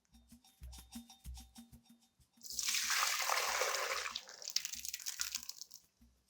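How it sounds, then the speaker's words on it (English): Boiled herbal bath water is poured through a sieve and strained, a steady splashing gush rising mid-way and tapering into drips, preceded by soft knocks and handling sounds. "And now I'm going to sieve it."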